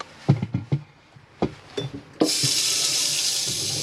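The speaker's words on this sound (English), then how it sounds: "Your water, and that's your pump kicking in there." A few soft knocks and clicks, then water suddenly gushes steadily from a tap in a Chausson Premium 634 motorhome as its water pump hums along beneath it.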